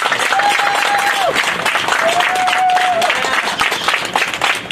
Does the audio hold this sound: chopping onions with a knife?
no